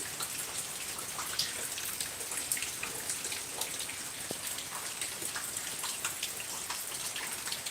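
Soft rain falls steadily with a fine crackle of individual drops pattering on surfaces, quiet and continuous without any talking.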